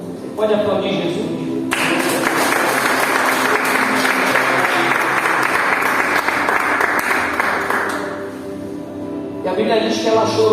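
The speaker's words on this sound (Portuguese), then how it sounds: "Você pode aplaudir Jesus?" A church congregation breaks into loud, sustained applause during a sermon, building and holding for several seconds before tapering off as the preacher's voice returns.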